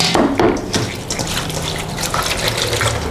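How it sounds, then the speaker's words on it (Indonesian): Water splashes and pours over grated coconut to extract coconut milk for homemade coconut oil, a close, steady gush with dripping and trickling. "Nah, kita siram dengan air di sini."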